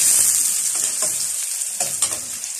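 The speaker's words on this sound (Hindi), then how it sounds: "अब हम इसमें 1 कप ऑयल डाल देंगे" Onions frying in a generous amount of hot oil for a mixed vegetable dish, a steady dense sizzle with a few louder stirring scrapes, close and alone without talk.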